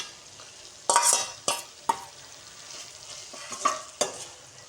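Fried fish-maker (soy chunk) balls stirred into an onion-tomato masala: a few loud, distinct spoon scrapes and clacks at irregular intervals over a faint, steady sizzle close by.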